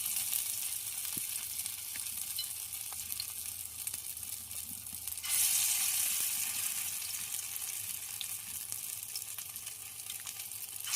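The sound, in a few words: lentil fritters with vine leaves frying in hot oil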